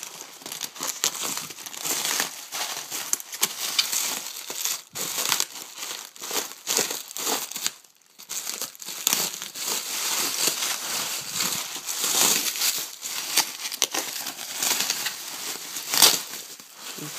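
A new MacBook is unwrapped from its packaging. Plastic and paper crinkle and rustle close up almost nonstop, with one brief pause midway, and no one talks.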